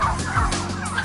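Heritage turkeys, including New Holland birds, gobble loudly and close together on a turkey farm. Their warbling calls overlap in a dense, continuous burst of about a second, with no human voices.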